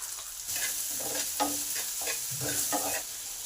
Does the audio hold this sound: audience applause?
no